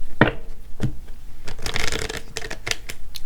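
A deck of tarot cards is shuffled close by, with quick riffling and soft slaps of the cards in several uneven bursts.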